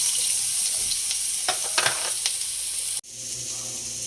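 Garlic and onion sizzling in hot frying oil for a carbonara, a loud steady crackle with stirring scrapes, briefly cut off before the sizzle resumes, no talking.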